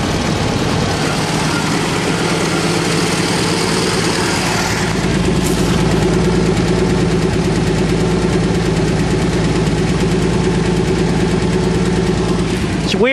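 A Ford Fairmont car engine runs at a steady idle, a continuous low rumble close by with a brief rise in tone partway through.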